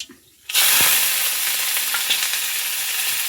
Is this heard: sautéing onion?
yes